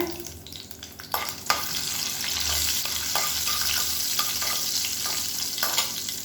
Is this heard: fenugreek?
yes